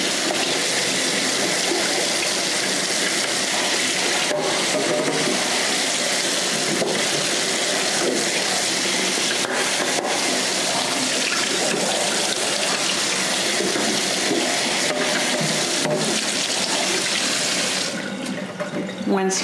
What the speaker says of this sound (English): And then run it under your water and use your hand to work out some of those fibers that are stubborn and don't want to be removed.